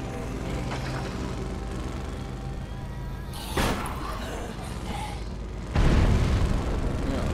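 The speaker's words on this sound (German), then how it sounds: "Ja, und da ist schon unser Fahrzeug explodiert." Vehicle blowing up in the video game State of Decay, a sudden loud booming burst over constant game engine noise, preceded by a smaller thud.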